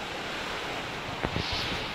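Steady, roaring wind noise buffets the microphone, with a few brief thumps near the end.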